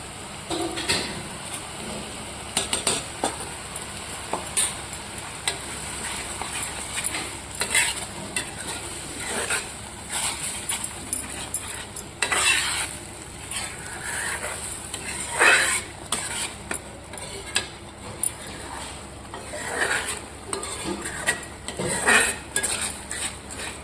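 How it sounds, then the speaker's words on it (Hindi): A spoon works fresh cream, skimmed from fresh milk, into a simmering curry masala with continuous scraping and clinking against the metal pot, over a low, constant sizzle. The stirring strokes come close and fairly loud throughout. "मलाई डालने के बाद चलाते रहना चाहिए क्योंकि मलाई फट सकती है"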